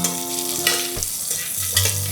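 Shallots sizzle in hot coconut oil with curry leaves, a close, steady frying hiss under a tonal background hum.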